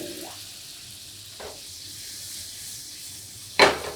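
Butter melting in a pan over a high gas flame gives a soft, steady sizzle, with a couple of brief scrapes and a sharper clatter near the end.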